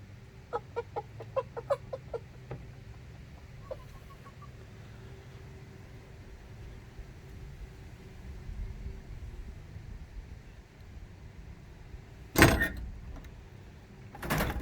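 Chickens cluck in a quick run of short calls as an automatic coop door opens, then quieter scattered clucks, followed by a couple of sharp knocks near the end.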